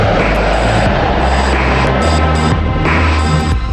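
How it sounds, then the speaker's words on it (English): A B-2 stealth bomber in flight gives a loud, steady droning engine roar with a throbbing low hum and no talking. "When the B-2 makes its maiden flight on July 17, 1989, it flies every bit as good as it looks."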